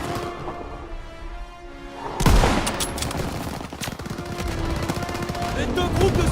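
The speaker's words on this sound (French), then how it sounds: "Un servant tire avec ce pack 38 et c'est nos chars qui sont visés!" Gunfire from a German PaK 38 anti-tank gun crew in Call of Duty WWII erupts as a loud blast followed by rapid crackling shots and battle noise, with a dense, sustained barrage continuing over background effects.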